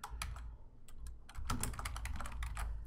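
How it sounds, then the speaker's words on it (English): Keystrokes on a computer keyboard while entering a multiple-choice question, a quick irregular clatter of close taps with short pauses, heard alone without talk. "And then you type in the actual text of your question"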